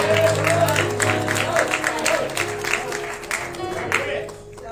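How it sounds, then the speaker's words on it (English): Church congregation at a Baptist service clapping hands together, a steady, fairly loud wash of claps with crowd voices and a sustained organ-like tone underneath, fading toward the end. "Somebody clap your hand for Jesus"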